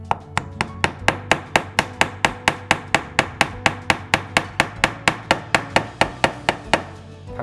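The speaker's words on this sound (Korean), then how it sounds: "못을 박으면 안에서 울리면서 소리가 명쾌한 소리가 들리는데 다 들어가면 둔탁한 소리가 들립니다" A hammer drives a nail into wood in a fast, even rhythm of about twenty-two sharp, close strikes, heard alone with no talking, before it stops near the end.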